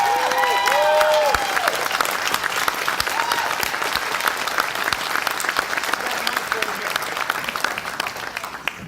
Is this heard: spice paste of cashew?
no